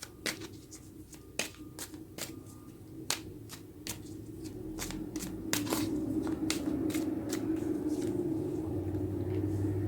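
Tarot cards are shuffled and drawn by hand in a quiet room, with sharp intermittent snaps and slides of the cards over a low background hum that grows slightly louder toward the end.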